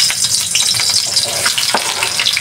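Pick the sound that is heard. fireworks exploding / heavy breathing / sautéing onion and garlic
sautéing onion and garlic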